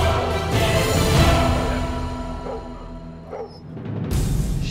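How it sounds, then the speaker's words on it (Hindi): Stray dogs bark and yip in a city, loud overlapping barks and whimpers at the start that fade somewhat and then pick up again at the end. "आवारा कुत्ते रात के औकात में जमा होकर अक्सर इंसानों पर भौंकते और हमला आवर होते दिखाई देते हैं"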